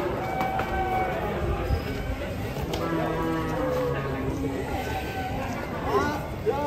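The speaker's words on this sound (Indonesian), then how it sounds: "Bantengnya datang, guys. Ini sapi kelima nih." Cattle moo and low while being loaded onto a truck, their calls rising among shuffling hooves and general commotion, with people talking over them throughout.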